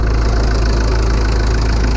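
A 1990 Mitsubishi Delica Star Wagon 4x4 with its Cyclone diesel engine idling, a loud, close, steady drone with no change in pitch.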